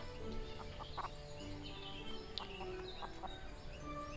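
Hens cluck in the farming video game Everdream Valley: scattered short clucks and calls sit over a steady game background, with no talking.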